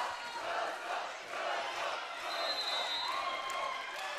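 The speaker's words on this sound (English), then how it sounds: "Crowd trying to cheer them on" At a high school volleyball championship between Asheville Christian and Coastal Christian, a gym crowd cheers and shouts at a distance, a muffled continuous roar with sneaker squeaks and a commentator's voice faintly over it.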